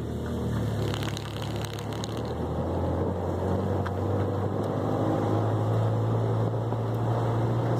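A 1972 Triumph Spitfire with a newly installed overdrive transmission drives along with a steady, droning engine note and road rumble, holding a constant pitch throughout.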